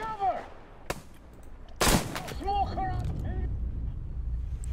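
Sniper rifle gunshots ring out in Metro Exodus, two sharp loud cracks a second apart amid clanking game mechanisms and ambience.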